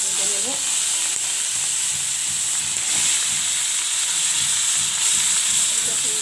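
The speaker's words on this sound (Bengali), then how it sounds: "চিংড়ি মাছটা আমি কড়াটা এর মধ্যে ভেজে নেব।" Prawns fry in a wok, giving a steady, close sizzle and hiss with faint, scattered crackles throughout and no voices.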